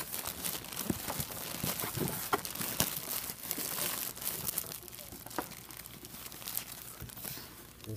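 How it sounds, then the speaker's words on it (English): Plastic packaging for a bed rest pillow being ripped open by hand, a close run of crinkling and tearing with sharp crunches scattered through, loud and continuous with no talking. "Just rip that open."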